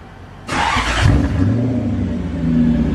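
A Lexus SC400 or SC300 engine starts with a brief loud crank after a throttle position sensor adjustment, then settles into a steady running hum close by, rising slightly near the end.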